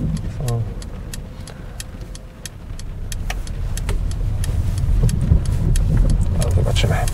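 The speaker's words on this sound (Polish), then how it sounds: "No tu jest taki odcinek mini, króciutki kostki" A Mercedes EQA 250 rolls over a short stretch of cobblestones, its cabin filled with a steady rumble of road noise and sharp intermittent clicks and rattles, with talk heard faintly over it.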